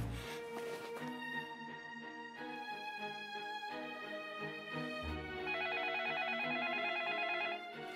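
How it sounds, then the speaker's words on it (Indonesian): A telephone rings in an Indonesian television drama, with melodic, ringtone-like tones repeating in a steady pattern for several seconds and no one speaking. "Lely telepon Pak Raffi"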